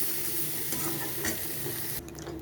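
Water is poured into a hot wok of soybean, egg and potato curry, setting off a loud, continuous sizzle and bubbling with some stirring that cuts off sharply near the end.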